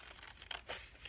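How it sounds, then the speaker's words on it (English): Paper being cut or torn along marked lines during a children's pumpkin craft, a soft crisp rustle with a few louder crinkling bursts, close and quiet, no voices. "Cut carefully along those lines."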